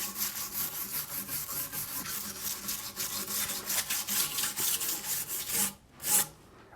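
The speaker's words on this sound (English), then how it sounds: "I'm going to run a wire brush over here just to see how much of this loose stuff it'll knock off" A wire brush scrubbing loose debris off an old reclaimed wooden beam, with rapid repeated rasping back-and-forth strokes, close and steady, ending in a couple of separate harder scrapes.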